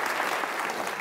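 An audience claps steadily in a short, dense burst of applause, even in level and heard without talk.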